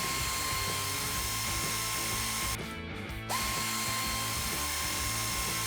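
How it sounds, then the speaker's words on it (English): A power tool drives rock slider bolts on a Toyota Tacoma, giving a steady high mechanical whine that briefly cuts out, then resumes, close and moderately loud. "we want to go back through and we want to torque all these bolts to spec."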